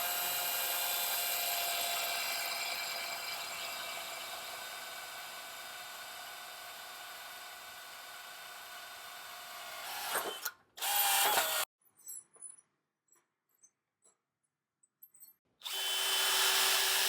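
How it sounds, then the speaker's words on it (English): A power drill bores holes into a wall for mounting a 2x2 angle, a loud steady whine for about ten seconds, then short bursts and a final spin-up after a pause. "Once you've drilled the holes"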